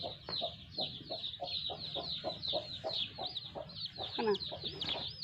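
A stuck chick cheeps in rapid, steady, high-pitched peeps that run without a break, close by. A low voice sounds faintly underneath near the end.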